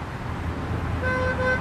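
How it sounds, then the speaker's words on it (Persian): A car horn in street traffic blares in two sustained honks, the second longer and louder, over a low rumble of road noise and idling engines. "برای چی بوق میزنی؟"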